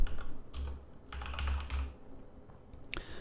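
A computer keyboard clicks as a project name is typed, with short bursts of quick keystrokes over a steady low hum and a couple of sharper key taps near the end, close and without speech.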